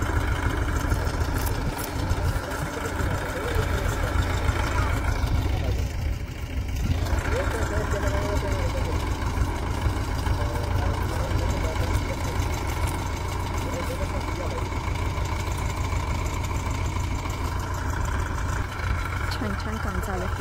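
A farm tractor runs with no one at the wheel at a bullock-cart racing ground, its engine idling in a loud, steady, continuous rumble that holds for the whole stretch.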